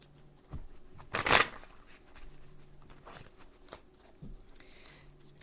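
A single quick burst of tarot card shuffling, a riffle that flutters briefly and then falls back to quiet handling noises.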